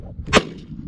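A single loud shotgun blast fired at a jackrabbit while hunting in open country in northern Nevada, a sharp close crack with a short tail, alone over faint background noise.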